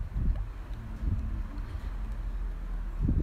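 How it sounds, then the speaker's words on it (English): Low, rumbling outdoor wind gusts buffet the microphone continuously, swelling and thumping in uneven bursts with no voices. "As you can see, it's a bit windy outside."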